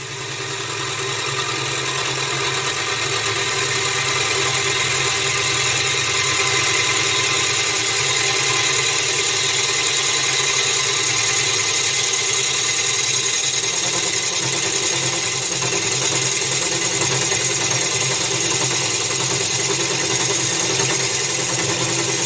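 A wood lathe spins steadily with a continuous mechanical hum and whine, its tone holding constant over a long stretch while faint tool scraping comes through underneath.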